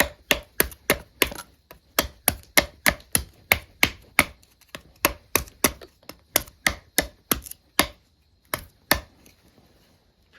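A Worktuff Voyageur Gen 2 knife chops wood to shape a tent stake. The blade strikes come in a fast, steady run of about thirty sharp, close knocks, with a couple of brief pauses and no talking.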